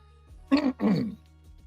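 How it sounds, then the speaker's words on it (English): A single throat clearing in two quick, harsh bursts, close and fairly loud, with quiet surroundings and no talking. "Let me clear my throat."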